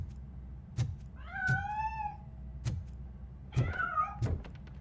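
A cat meows in the video game RoboJim, giving two drawn-out, wavering meows between sharp thuds and knocks, close and clear without talk.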